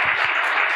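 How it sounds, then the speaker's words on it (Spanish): An audience claps to welcome a speaker at a families' meeting, giving a brief, moderately loud burst of applause. "Recibamos con un fuerte aplauso a don Fernando Alberca"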